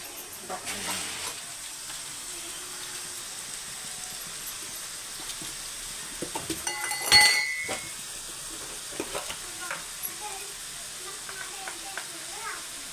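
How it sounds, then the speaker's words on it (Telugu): Onion paste with curry leaves fries in a pan, giving a faint continuous sizzle with a louder burst of stirring clatter midway and scattered clinks; a person talks over it. "ఇది బాగా పచ్చివాసన పోయే వరకు వేయించుకోవాలి"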